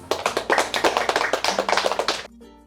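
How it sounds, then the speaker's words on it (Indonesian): A small group of students in a classroom claps in quick, close bursts of sharp hand claps for about two seconds, then stops, leaving brief quiet. "Ya, tepuk tangan untuk Mang Agus"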